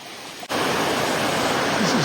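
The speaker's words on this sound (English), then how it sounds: "Another little semi-waterfall here, going down to the floor of the valley along the trail." Small waterfall spilling down toward a valley floor beside a rainforest trail, a steady broadband rush of falling water that swells suddenly after a brief quieter start and stays loud and continuous.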